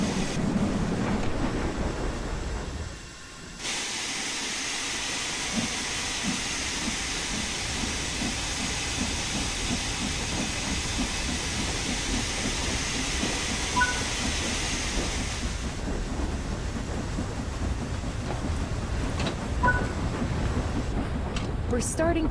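A steam locomotive in Train Sim World 4 hisses steadily as it runs, with a continuous rush of steam over rhythmic chuffing and rail clatter. A brief lull comes near the start, then the hiss holds until it eases toward the end.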